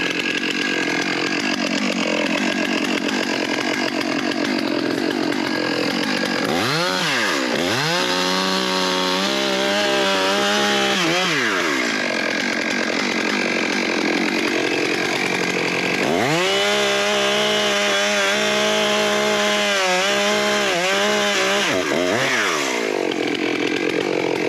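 Stihl MS 661 Magnum chainsaw cutting a wedge into wood, a loud continuous engine whine that bogs down in two long cuts, its pitch sweeping low under load and climbing back between them.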